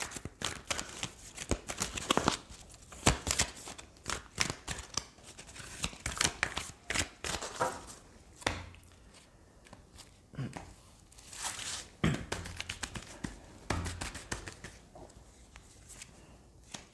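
Oracle cards being shuffled by hand, a quick run of papery riffles and slaps in bursts with short pauses between them, close and fairly quiet.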